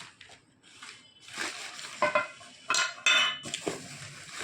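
Tea cups and plates clink and knock together in short, bright bursts as they are handled. The close clatter of ceramic and cutlery rises and falls with no voices.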